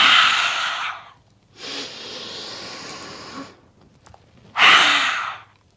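Long audible breaths during a yoga flow, three drawn-out airy breaths separated by brief pauses, close and fairly loud with no talking.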